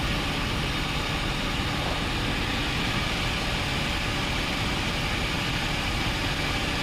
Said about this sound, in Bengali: কিন্তু আমাদের ইঞ্জিনের পাকা কিন্তু চলছে।